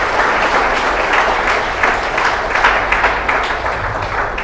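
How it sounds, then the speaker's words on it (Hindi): Church congregation clapping in thanks to God after a sermon on salvation, a loud, dense burst of applause from many hands filling the room without pause. "एक अच्छी ताली बजाकर प्रभु को धन्यवाद"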